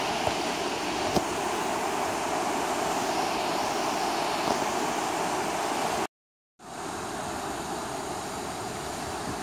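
A rough stream on a cold, windy day along a park trail rushes as a constant loud wash of water and wind, broken by a brief dropout near the end.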